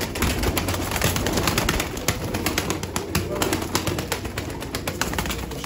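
Pigeons at an evening show and sale of fancy flying pigeons coo steadily amid a busy, noisy coop, with constant rustling and chatter-like background sound throughout.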